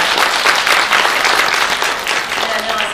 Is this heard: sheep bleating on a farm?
no